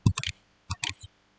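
Clicks from typing a spreadsheet formula on a computer's on-screen keyboard: two quick bursts of three or four sharp taps each, separated by a short pause, fairly quiet and close.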